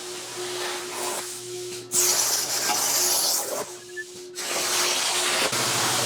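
A table saw runs with a steady, rough hiss and low hum, the noise surging louder in stretches as material is fed through.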